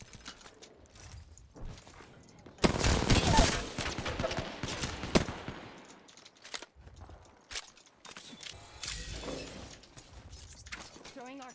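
Gunfire in Apex Legends, bursts of rapid shots and sharp cracks in clusters, loudest in the middle, mixed with mechanical clicks and a voice speaking.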